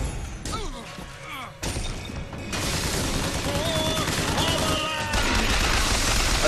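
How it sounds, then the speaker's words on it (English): Sustained automatic gunfire and mechanical clatter from the Bioshock Infinite video game fill the scene as a dense, continuous barrage, with brief whistling tones overhead and a voice speaking underneath. "Your machine gun is not very effective against motorized figures"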